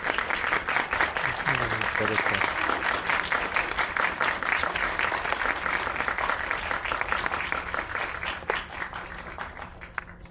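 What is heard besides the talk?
audience applause welcoming director and actors at film talk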